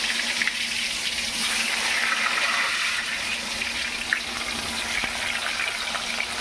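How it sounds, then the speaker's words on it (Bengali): Pointed gourd (potol) rubbed with salt and turmeric frying in a pan, giving a steady, close sizzling hiss throughout with no break and no voices. "সেটাকে আমি নুন হলুদ দিয়ে মেখে এখন ভাজবো। পটলগুলো প্রথমে ভেজে নেব।"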